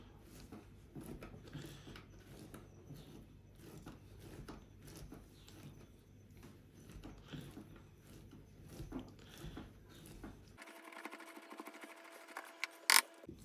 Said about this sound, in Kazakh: Енді осындай бір сырымызды үккіштен өткізіп аламыз.